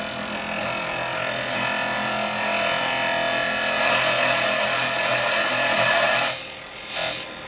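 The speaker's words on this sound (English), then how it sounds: "First off, parting tool. And I'm going to come in and do my little tenon." A parting tool cuts a tenon into a spinning workpiece on a wood lathe, giving a steady, close scraping hiss that runs unbroken for several seconds, then stops briefly and returns in a short final burst.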